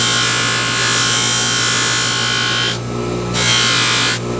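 A motorized polisher works a jewelry hammer peen, a loud, high, continuous whirring grind that briefly drops and returns as the metal is moved against the wheel.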